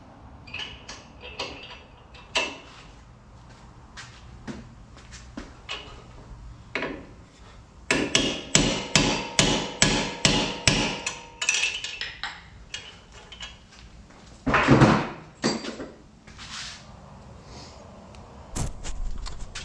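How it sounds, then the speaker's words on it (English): A hammer strikes a socket to bend over a strut mount ear on a Tacoma during a TRD Pro 4Runner strut swap, giving sharp metallic blows, with a fast run of repeated hits in the middle and a few scattered knocks around it. "I hit it with a hammer and just hit that ear over"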